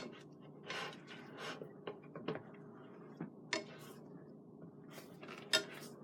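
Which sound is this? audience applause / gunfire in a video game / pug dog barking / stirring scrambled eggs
stirring scrambled eggs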